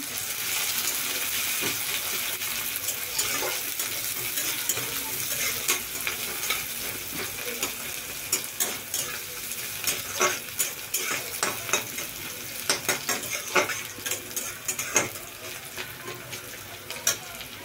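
Onion and chili frying in a pan while being stirred: a steady close sizzle with scattered scraping clicks of the spoon against the pan, growing busier and more percussive toward the end.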